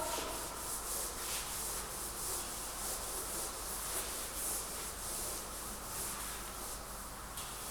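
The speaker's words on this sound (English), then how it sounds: "So let me rub the board." A classroom board being rubbed clean: steady, soft repeated swishing strokes at an even rhythm, close and fairly quiet, with no talking.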